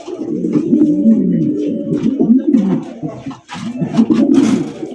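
A male pigeon coos deeply at close range in repeated low, throaty rolling calls with short pauses between them, loud and clear, with no talking over it.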